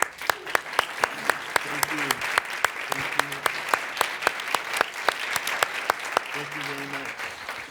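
An audience at a forum event applauds to welcome choreographer Alonzo King, with steady sustained clapping from a moderate-sized crowd and a few sharper claps standing out. It stays at an even level for several seconds.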